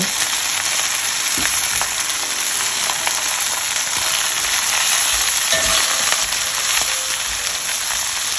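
Oxtail pieces browning in a STAUB pan give a loud, dense, continuous sizzle and crackle, with occasional faint scrapes, and no voices.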